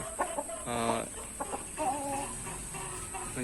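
Hens kept for breeding cluck in a few short, nearby bursts against a quiet background with a steady high-pitched hum.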